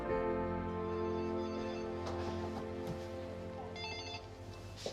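A telephone rings with a sustained electronic tone that warbles briefly near the end, heard alone at moderate volume with no talking.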